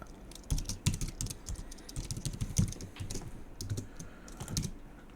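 Rapid clatter of a computer keyboard as code is typed, with irregular bursts of key clicks at close range and no voices.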